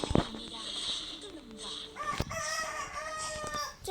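A rooster crows loudly nearby, its drawn-out call rising and falling over several seconds, with other fowl clucking and a person talking in the background.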